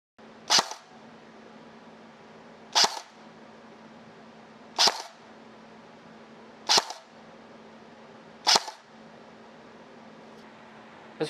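Airsoft gun firing ZNG 0.2 gram bio BBs, five sharp separate snapping shots about two seconds apart, close and crisp over a faint steady hum.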